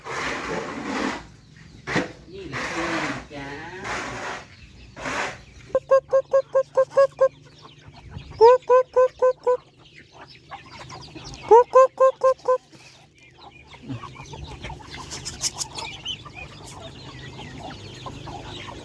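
Striped chickens on a farm cluck in several rapid bursts of sharp, evenly spaced calls, close and loud, separated by quieter stretches with handling noises and some low background voices.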